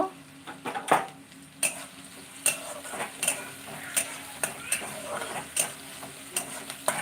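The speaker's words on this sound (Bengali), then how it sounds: "পেঁয়াজটা লাল লাল করে ভেজে নেব" Onions frying in a pan for a loitta (Bombay duck) fish recipe, a low steady sizzle punctuated by repeated sharp spatula knocks and scrapes against the pan, close and without talk.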